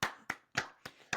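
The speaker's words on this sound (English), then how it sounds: "just give a round of applause for AB" Hands clap five times in a steady beat, each clap sharp and close with a short ring after it, during a podcast recording.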